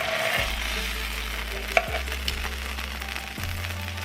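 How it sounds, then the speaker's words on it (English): A birria taco tortilla frying in a pan, with a soft continuous sizzle and a low steady hum, interrupted by a few brief clicks. "Cook it on one side for a couple of seconds, and then flip it."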